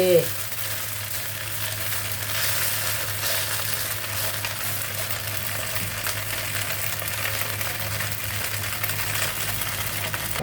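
Noodles frying in a pan for Hong Kong-style rad na, a steady loud sizzle with a brief clatter at the start as they are flipped over, continuing evenly.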